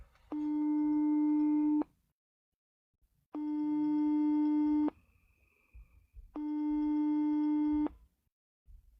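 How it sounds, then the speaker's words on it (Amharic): A telephone ringback tone sounds three times, each a steady buzzing tone lasting about a second and a half, separated by short silences. "ቆይ እየጠራ እኮ ነው።"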